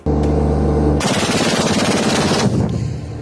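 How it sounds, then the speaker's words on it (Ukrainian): A German-made Skynex anti-aircraft autocannon fires a rapid, continuous burst lasting about a second and a half, loud and harsh, after a low mechanical hum, then the roar trails off. "Українські військові продемонстрували роботу зенітного артилерійського комплексу німецького виробництва Skynex."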